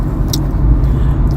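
A car drives along Highway 6, heard from inside the cabin as a steady low road rumble and engine drone, close and constant with no talk over it.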